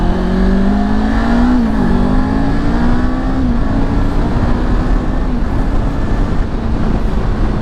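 A Kawasaki Ninja 500 sport bike pulls hard at about three-quarter throttle, its engine note climbing steadily through the gears in a loud, continuous drone with wind rush, close and alone.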